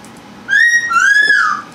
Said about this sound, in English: My bird likes it. It whistled.